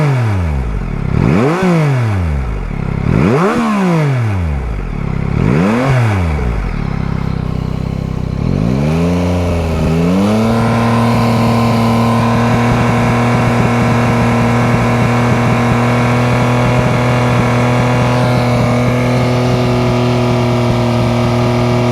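Yamaha MT-09 2021 motorcycle engine, loud and close, blipped in three rising-and-falling revs, then climbing and held steady at a high idle around 5,000 RPM for a long sustained drone.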